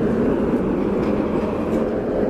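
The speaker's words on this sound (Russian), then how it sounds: "Трамвай." A tram in Kaliningrad, Russia, rumbles past close by, a steady low roar of wheels on rails.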